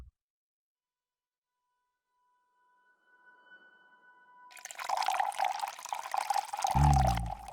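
Water poured into a glass in the game Dark Nights with Poe and Munro: after quiet faint tones, a rising splashing pour builds steadily and grows louder until the end.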